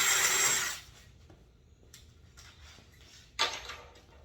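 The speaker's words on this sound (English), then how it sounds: "Go ahead and just drill through that guy there on our skid plate." A power drill with a 1/4 inch bit bores through a metal skid plate on a project car, a loud, close whine for under a second, then a quiet pause and another brief, sharp burst.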